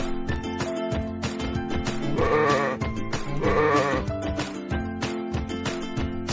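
Sheep bleating loudly in a pen, two drawn-out bleats standing out over a busy backdrop of other farm animal sounds.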